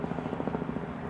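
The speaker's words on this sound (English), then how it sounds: "sorry if you can hear the helicopter going by" A helicopter passing overhead outdoors, a steady low rhythmic rotor thump filling the moment, fairly loud and continuous with no speech.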